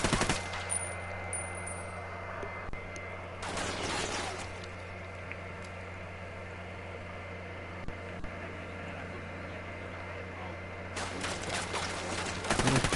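Gunfire in the tactical shooter Ghost Recon Wildlands, rapid bursts of automatic fire at the start, around four seconds and again near the end, over a steady low hum, with a little talking.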